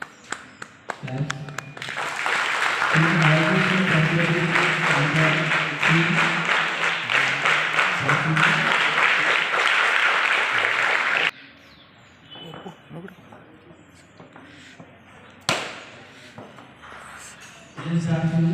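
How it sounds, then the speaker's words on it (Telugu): A school crowd at a Swami Vivekananda Jayanti celebration applauds for several seconds, dense clapping that swells and then stops abruptly, followed by quieter room noise, scattered voices and a sharp knock. "చప్పట్లు"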